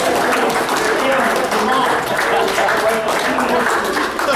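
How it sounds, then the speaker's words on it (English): Audience at a junior sports club's presentation night applauding steadily and loudly, a dense wash of clapping with crowd noise mixed in throughout. "let's give them a round of applause."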